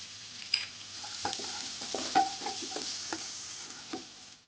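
Garlic sizzling and frying in a pan for stir-fried enoki mushrooms, with soft stirring scrapes and light clinks of a utensil against the pan over a steady low hiss.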